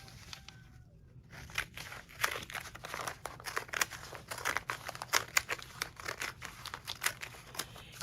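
Scissors cutting paper for a handmade journal cover, a quiet, close run of crisp snips and crinkles in an irregular rhythm after a brief pause at the start.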